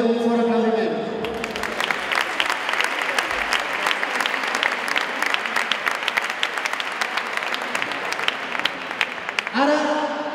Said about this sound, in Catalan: Una salutació cordial per a tots ells i també un fort aplaudiment.